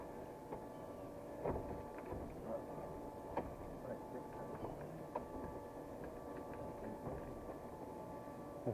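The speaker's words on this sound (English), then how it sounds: "I'm going to try to talk over the pumps, but it's going to be loud." Pool pumps and filters run inside a new clubhouse equipment room, a loud, steady mechanical hum and drone with faint rattles and knocks throughout.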